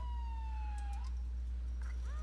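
An ambulance siren in the police game LCPDFR wails in a falling tone, then gives brief rising whoops, sounding moderately near over a constant low drone.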